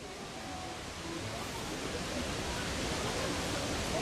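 A creek flows in the gorge below the Marienbrücke bridge near Neuschwanstein, giving off a steady broadband rushing that fills the whole clip and swells slightly toward the end, with no clear voices.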